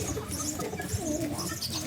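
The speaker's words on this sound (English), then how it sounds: "This is a pigeon." A pigeon in a garden gives a short, soft, low coo, close by and faint, lasting under two seconds with no talk over it.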